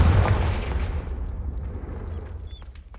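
A loud, booming fire-spell blast from Confringo in Hogwarts Legacy bursts at the start, then rumbles and decays over a few seconds, with a faint high ringing tone near the end.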